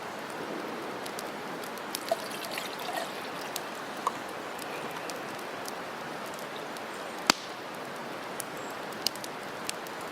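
Water pouring steadily into a metal canteen cup for cooking jasmine rice, a continuous splashing trickle lasting throughout with a few faint clinks.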